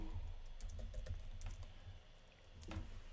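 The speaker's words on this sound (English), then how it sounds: "You can just type in exponential moving average exponential" Fingers type steadily on a computer keyboard, a close, soft run of clicks and taps over a low background hum, with no talking.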